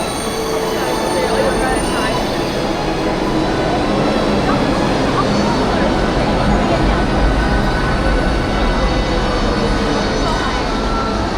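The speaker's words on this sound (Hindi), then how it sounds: "और ये हमारी डिज्नी लैंड हांगकांग की लाइन की मेट्रो आ गई है।" A Hong Kong metro train on the Disneyland line pulls in, with a steady loud rumble and wheel noise that holds throughout, and light background sound of people on the platform.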